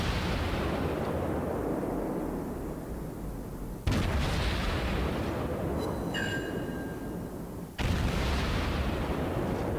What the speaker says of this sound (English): Our shots just keep flowing in.